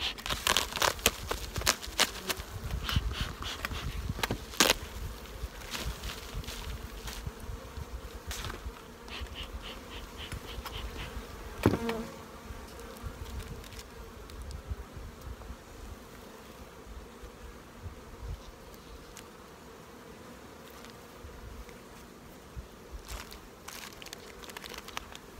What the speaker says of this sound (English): the bees are just starting to get out in flight